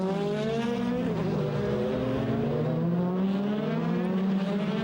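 DTM Audi race cars at Hockenheim scream past, engines rising and falling through gear changes in a loud, sustained wail with several overlapping cars close by.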